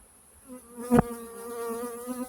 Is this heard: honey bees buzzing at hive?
yes